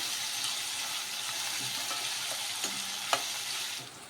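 Onion pieces with a pinch of asafoetida fry in a pan as they are stirred, during tempering for an Andhra-style dal. A constant soft sizzle runs throughout, broken by a couple of clicks from the stirring spoon.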